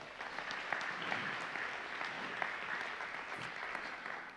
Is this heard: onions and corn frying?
no